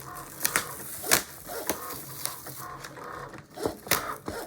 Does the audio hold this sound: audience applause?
no